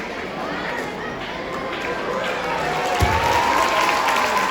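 Clapping from a school assembly audience as an inauguration begins, a fairly soft spread of applause blended with crowd murmur that swells slightly toward the end.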